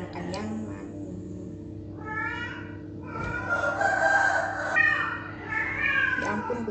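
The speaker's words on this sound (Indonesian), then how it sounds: "ampun kucing" A cat meows repeatedly and loudly up close, drawn-out wailing calls in a kitchen where breadfruit is being fried, with a low background hum throughout.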